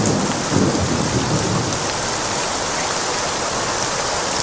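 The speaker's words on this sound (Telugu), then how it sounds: "అరే గణేష్, ఏంట్రా వర్షంలో కూర్చున్నావు?" Steady heavy rain pours onto surfaces, with a low rumble of thunder rolling underneath near the start, loud and continuous throughout with no voices.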